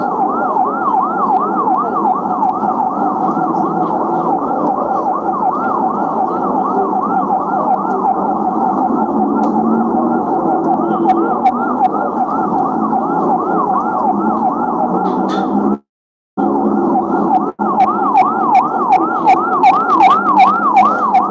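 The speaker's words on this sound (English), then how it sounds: "Oh, siren again." An air raid siren wails, rising and falling steadily for most of the clip, loud and continuous, briefly dropping out before returning, during a wartime attack on Iran.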